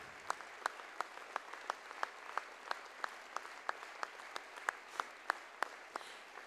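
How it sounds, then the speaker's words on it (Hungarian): An audience claps in unison at a New Year concert by the Kiskőrös town wind band, a steady and evenly spaced beat of joined claps heard at a modest, somewhat distant level. "Szintén hatalmas taps"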